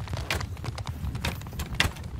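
Horses gallop across a battlefield in the video game Mount & Blade II: Bannerlord, irregular hoof clops and thumps pounding close and busy over a rumbling battle backdrop.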